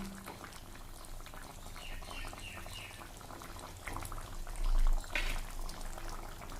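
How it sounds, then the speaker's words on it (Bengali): Curry with eggs and new potatoes boiling in a pot, giving steady close bubbling and popping with small liquid splashes that swell briefly toward the end. "ঝোলে জাল উঠে গেছে এখন আমি ডিমগুলোকে দিয়ে দিয়েছি"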